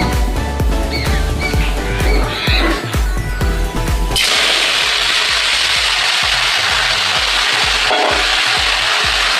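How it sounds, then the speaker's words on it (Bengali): Bathua greens frying in hot oil with cumin and dried red chilli tempering, a loud steady sizzle that surges after a few seconds of stirring and scraping in the pan. "শাকগুলোকে আমি আগে ভেজে নেব"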